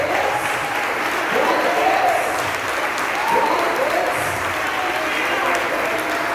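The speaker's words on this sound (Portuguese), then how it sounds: "Você pode aplaudir o Senhor?" A church congregation at a Sunday celebration service applauds the Lord in a sustained, loud roar of clapping lasting over six seconds, while a voice calls out faintly over the crowd.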